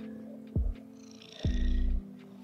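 A domestic cat named Kiki purrs close up, wanting cuddles, with two low rumbling bursts under a steady soft background hum.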